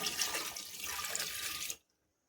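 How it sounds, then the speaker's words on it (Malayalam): Water poured from a vessel into a cooking pan holding jaggery, a steady splashing rush lasting under two seconds before cutting off abruptly into silence. "ഇനി നമുക്ക് ഇതിലേക്ക് കുറച്ച് വെള്ളം ഒഴിച്ചു കൊടുക്കാം"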